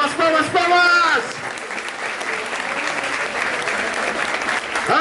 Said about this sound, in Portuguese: Palmas, palmas, palmas, palmas, palmas